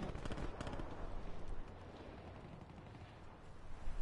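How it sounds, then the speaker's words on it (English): Bursts of video game gunfire crackle in rapid clusters during a live PS4 match, dense and fairly loud through the first second and a half, then thinning into a rougher, quieter background of distant shots. "there's somebody over there shooting"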